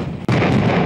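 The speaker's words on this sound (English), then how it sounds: "India began to fire the massive Bofors guns to drive Pakistan out of Kargil" Massive Bofors artillery guns fire in the Kargil conflict, a loud booming blast that cuts off briefly and then rolls on as a sustained, dense rumble.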